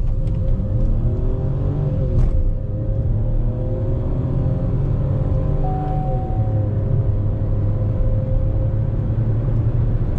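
An MG Astor 1.3-litre turbo, heard from inside the cabin with windows shut, launches with traction control off, its engine note rising steadily through the gears with brief shift dips.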